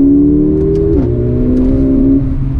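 Heard from inside the cabin, a Mercedes-Benz CLA 45 AMG accelerates hard with a loud, steady engine drone, rising in pitch until a quick upshift from third to fourth drops the tone, then climbs again.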